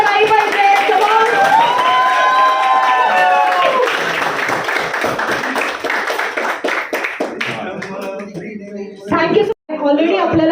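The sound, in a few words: audience applause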